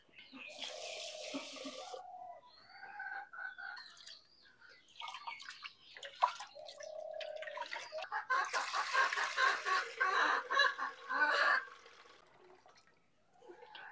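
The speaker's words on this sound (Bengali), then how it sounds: "শাকগুলো ধুয়ে নিলাম।" Leafy greens being washed by hand in water, with bursts of splashing, swishing and dripping separated by short quiet gaps, louder and busier toward the end.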